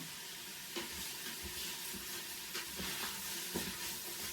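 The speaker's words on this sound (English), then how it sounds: "Give this a good stir." Chopped onions sauté on high heat in an Instant Pot for chicken cacciatore, giving a steady close sizzle with a few sharp scrapes of stirring spread through it.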